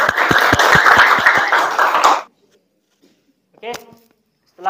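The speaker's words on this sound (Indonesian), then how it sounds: "tepuk tangan dong." A classroom of students claps hands in a loud burst of dense, sharp claps lasting about two seconds, then stops abruptly; a brief voice follows after a pause.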